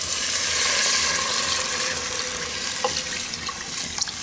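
Boiled milk pours over lightly fried carrots in a pot, a continuous close watery rush with a few faint metallic clinks near the end, no speech.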